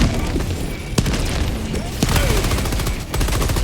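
Rapid enemy gunfire in the Helldivers video game, a dense sustained barrage of cracking shots and booms filling the scene, with a few sharper bursts standing out.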